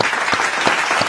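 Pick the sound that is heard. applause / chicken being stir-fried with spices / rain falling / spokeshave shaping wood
applause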